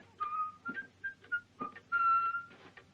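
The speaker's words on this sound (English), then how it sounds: "Why, you whistling, kid." A person whistles a short, lively tune nearby, a string of brief clear notes with small gaps and one longer held note.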